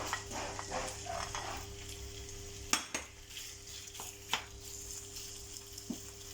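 Pork pieces gently frying in hot oil over medium heat, being sealed for a pork, chorizo, potato and chickpea stew; a steady soft sizzle runs throughout, broken by a few sharp utensil clacks against the pan.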